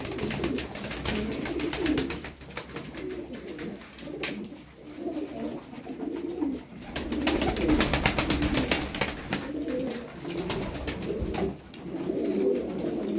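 Game pigeons cooing steadily, close and loud, with repeated throaty coos and occasional wing flaps filling the space.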